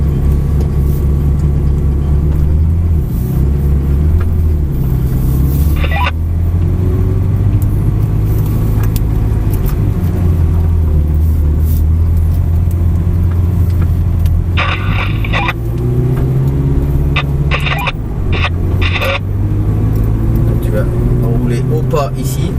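A Ferrari pulls away from a standstill and drives on, its engine a steady loud drone with rising and falling pitch as it gathers speed, while a voice speaks over the engine.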